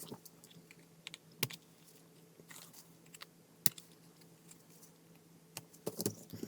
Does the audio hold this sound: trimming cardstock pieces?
yes